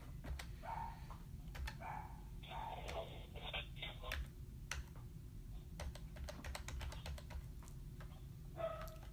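Rapid, faint clicks of typing on a computer keyboard, with scattered keystrokes and short bursts continuing over a steady low background hum, with no talking.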